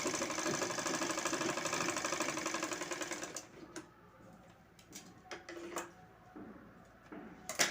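A sewing machine stitching fabric for a designer potli bag, running in a fast, steady mechanical rattle for about three seconds, then stopping, followed by quieter handling clicks and small taps nearby.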